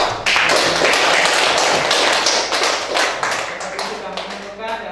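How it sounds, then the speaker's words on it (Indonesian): Classroom of students applauding, a loud, close burst of many hands clapping with sharp individual claps, tapering off near the end. "Ya, tepuk tangan dulu."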